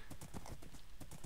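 Horse galloping during a Minecraft horse race, a quick, even clip-clop of hoofbeats repeating steadily, close and clear.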